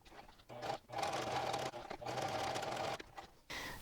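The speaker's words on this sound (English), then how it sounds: "make sure I give it another stitch across, and that just secures it" Sewing machine running in steady bursts as it stitches back and forth across the seam of a fabric neck warmer, close and clear with brief pauses between passes.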